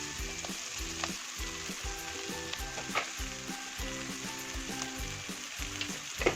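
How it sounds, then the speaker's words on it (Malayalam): Chopped colocasia leaves tossed into hot oil for a Kerala thoran, crackling and sizzling loudly with repeated rhythmic stirring scrapes, close up and continuous, with no talking. "അരിഞ്ഞ് വെച്ചിരിക്കുന്ന നമ്മുടെ ഇല ചേമ്പലി കണ്ടു വെക്കാൻ കൂടെ അതിലോട്ട് ഇട്ട് കൊടുത്ത്"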